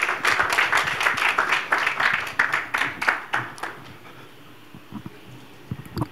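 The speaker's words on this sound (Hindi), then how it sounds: "उनके लिए तालियां हो जाए ये स्टेज पर" Audience applause at a Bollywood film trailer launch event as an actress is welcomed on stage, a burst of lively clapping from the crowd that dies away after about three seconds, leaving a few isolated claps in a quieter room.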